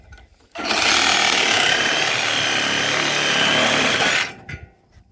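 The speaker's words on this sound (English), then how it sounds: "we'll just start cutting pieces off here with the Sawzall" A Sawzall reciprocating saw cuts through a piece for about four seconds, a loud, close, harsh buzzing rasp that starts abruptly and stops just as suddenly, followed by a few clunks.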